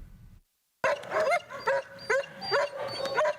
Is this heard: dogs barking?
yes